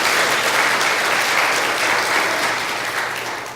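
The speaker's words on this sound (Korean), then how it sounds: "우리 큰 박수로 우리 준호 위해서 한번 격려하시기 바랍니다." Steady applause from a church congregation, a dense clapping wash that holds evenly and begins to fade toward the end.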